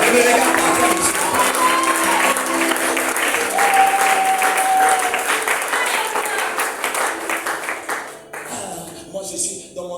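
A church congregation at a prayer gathering applauds steadily in praise of the Lord, with a voice speaking over the clapping, which fades out near the end.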